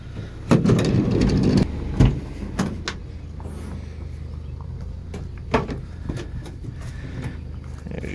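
Mechanical clunks and a sliding rumble from a drawer unit being pulled out through the door of a 2012 Ford Transit Connect work van, with a few sharp knocks early on over a steady low engine-like hum.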